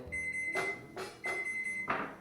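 A kitchen timer alarm goes off while cauliflower roasts for keto macaroni and cheese, sounding as a close, loud repeating beep in short bursts about every half second.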